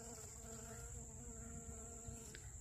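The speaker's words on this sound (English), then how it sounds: "look at all the bees" Faint, steady buzzing of bees close by around flowering broccoli plants, a continuous insect drone with a slight hum and no voices.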